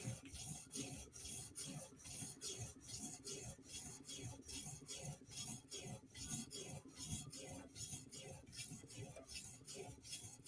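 A Chris Reeve Inkosi tanto knife is drawn across a sharpening stone with pressure on the upper bevel, giving steady close rasping strokes in a quick, even rhythm with no pause.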